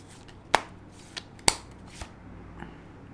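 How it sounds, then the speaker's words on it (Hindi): An oracle card deck is shuffled in a few quick riffle-like bursts, two sharp louder snaps and several softer flicks, close and alone in a quiet room. "Oracle deck shuffle."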